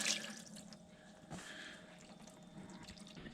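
Oil draining from a combine through a hose into a bucket, a continuous close trickling and gurgling flow with small splashes.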